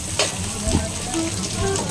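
Fish drops into a hot pan with cassava leaves and sardines, setting off a loud, close sizzle with brief stirring clatter over about two seconds.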